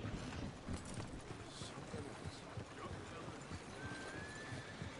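Horses neigh and hooves clip-clop near the stables in the video game Red Dead Redemption, with steady hoofbeats and a whinny over a busy background and talk.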